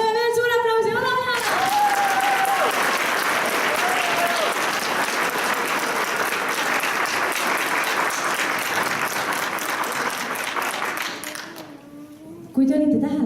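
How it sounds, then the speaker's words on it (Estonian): Audience applause at a concert, dense and loud clapping from a large crowd sustained for about eleven seconds before fading, with a voice speaking at the start and end. "teeme veel suur aplausi"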